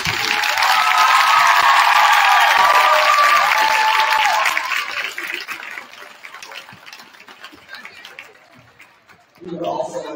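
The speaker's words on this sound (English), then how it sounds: "Ladies and gentlemen, please give a round of applause for the 2023," Audience applause at a Gosnell High School ceremony in a gym, loud dense clapping with cheering for about four seconds before thinning to scattered claps, with talk returning at the end.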